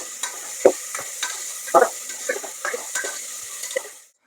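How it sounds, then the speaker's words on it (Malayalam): Ginger and garlic paste frying in a pan for Kerala-style beef curry is stirred with a utensil: several scraping strokes at irregular intervals over a soft sizzle, then silence at the end, with no talk. "നമുക്ക് ഇതിന്റെ ഒരു പച്ചമണം മാർഗണം വരെ നമുക്കൊന്ന് ഇളക്കി യോജിപ്പിക്കാം."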